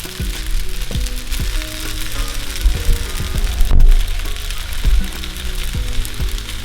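Sauce hits hot noodles in a frying pan, setting off a loud, steady sizzle with scattered crackles and pops close up and no talking.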